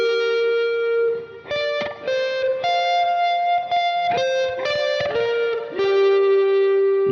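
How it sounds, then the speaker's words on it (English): Electric guitar with a P90 pickup through an overdriven amp plays sustained single notes with a fizzy, distorted edge, the notes changing every second or so. "you can hear that note's got a bit of fizz on the top of it where the amp is overdriving"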